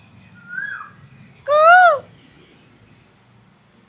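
A koel calls from a tree, one loud clear rising-and-falling whistled note close by, following a softer earlier call, with faint background murmur.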